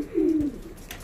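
A single low, rolling pigeon coo, close and clear, fading out over about half a second against a quiet background.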